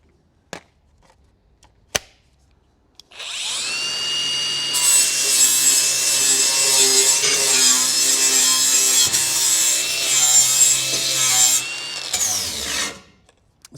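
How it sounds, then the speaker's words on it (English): An angle grinder works a coal shovel to clean it up: after a few faint knocks, a loud, continuous high whine with steady abrasive grinding starts and lasts about nine seconds before spinning down. "I'll just give it a light run with the angle grinder,"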